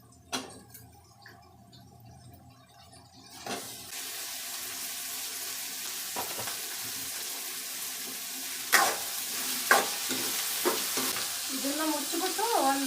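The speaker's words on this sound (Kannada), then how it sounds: "ಇವಾಗ ನಾನು ಬದನೆಕಾಯಿ ಸೇರಿಸ್ಕೊತಾ ಇದ್ದೀನಿ." Eggplant sizzles loudly in a hot pan with onions and curry leaves, starting after quieter clinks; a spatula scrapes and stirs at intervals over a steady frying hiss.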